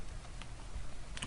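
Quick, light keystrokes tap out a web address on a computer keyboard, a short burst of clicks, faint and close in a quiet room.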